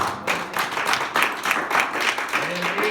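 A church congregation breaks into steady applause, many hands clapping in a dense, continuous wash that holds at the same level throughout, with a faint voice underneath near the end.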